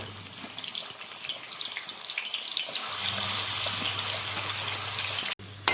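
Amla (Indian gooseberries) drop into hot oil in a kadhai and fry, a steady hissing sizzle that swells and stays loud and close, ending with a brief clatter.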